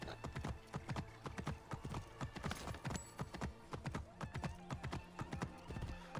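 Horse hooves trot in Assassin's Creed Origins, a steady rapid clip-clop of many hoofbeats running close and clear throughout, with an occasional whinny mixed in.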